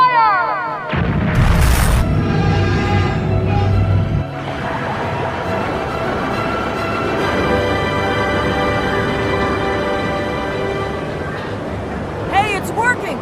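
An anime sailing ship fires a cannon barrage, its recoil used to push off the rocks: a loud, heavy boom near the start, then a long rumbling roar with music and a voice over it.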